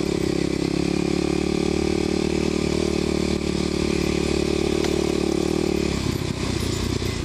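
A Kawasaki KLX250sf supermoto ridden through sand at an off-road ATV poker run, its engine droning loudly and steadily with a slight shift in tone near the end. Constant wind roar sits underneath.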